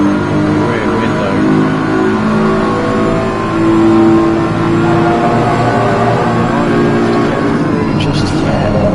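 A BMW race car's engine drones steadily at Misano, holding a sustained mid-pitched tone with slight rises as it pushes hard, under continuous commentary talk.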